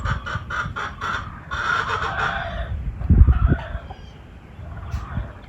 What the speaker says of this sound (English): Look at those peacocks.